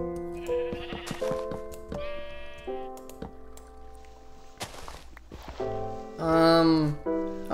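Sheep bleat in a survival video game while keyboard clicks tap underneath. Several loud, wavering bleats repeat in quick succession, close and distinct, with one especially strong cry near the end.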